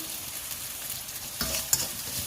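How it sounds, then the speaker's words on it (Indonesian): Fried rice (nasi goreng) being reheated in a pan, with a steady soft sizzle and a couple of louder stirring scrapes midway, heard alone without talk. "Ini panasin nasi goreng."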